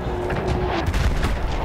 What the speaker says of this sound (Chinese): There was an artillery gun that was shelling us and Mateo's unit.